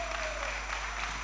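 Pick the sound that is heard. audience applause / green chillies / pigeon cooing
audience applause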